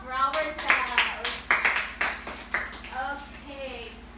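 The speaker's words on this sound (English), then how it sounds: "Let's give a round of applause for ourselves." A classroom of students claps for themselves during a math lesson, a run of distinct, fairly loud group claps in an uneven rhythm, mixed with children's voices and a teacher talking.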